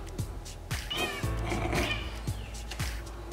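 A cat meows and yowls repeatedly indoors, several drawn-out cries close by with soft thumps and rustling between them.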